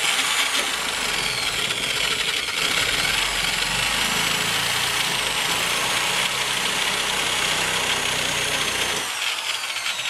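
A power tool cuts steadily through thick aluminum siding in one continuous, loud, buzzing grind that holds for most of the time and then cuts off near the end, with no talking.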